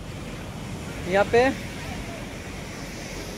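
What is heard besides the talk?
sea waves breaking on the beach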